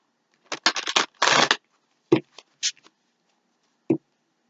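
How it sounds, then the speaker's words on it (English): A tarot card deck is shuffled by hand, a few quick papery riffles and bursts followed by scattered soft taps and a final short shuffle, close and otherwise quiet. "I'm just going to shuffle a couple times."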